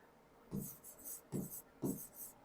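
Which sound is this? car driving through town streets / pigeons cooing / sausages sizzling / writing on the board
writing on the board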